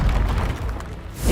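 A Confringo explosive spell goes off in the video game Hogwarts Legacy, a brief dense booming blast that fills the whole moment with no speech over it.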